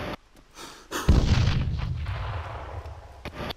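A loud burst of gunfire in a video game erupts about a second in, with a heavy low boom that rumbles and decays for several seconds, preceded by short clicks and handling sounds.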